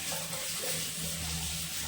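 Hot water runs from a tap while a bucket is being washed at home, a soft steady gushing splash at low level, continuous and with no voices.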